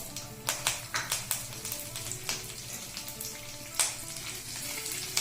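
Mustard seeds, a few dried red chilli pieces and curry leaves sizzle steadily in hot oil for a chutney tempering, with sharp crackling pops and light stirring taps throughout, loud and close.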